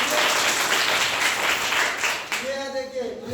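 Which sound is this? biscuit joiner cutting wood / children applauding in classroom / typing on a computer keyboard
children applauding in classroom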